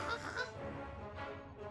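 A weird duck character in a jar in the video game Yooka-Laylee gives a short run of nasal, honking quacks, close and fairly loud, with game music or background sound running underneath.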